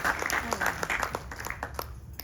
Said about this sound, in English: Please give Pandit Shekhar and his wonderful mandir a huge round of applause.